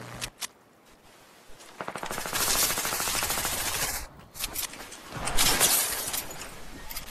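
SCAR rifle fire in a shooter video game, a loud rapid burst of automatic shots after a couple of sharp single cracks, a short pause, then another sustained burst.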